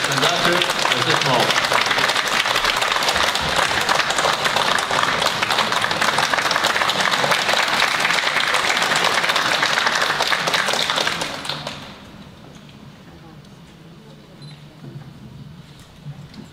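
Sustained audience applause fills a choir concert hall as the conductor is welcomed, dense and even for about eleven seconds before fading to quiet room noise.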